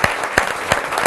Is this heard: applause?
yes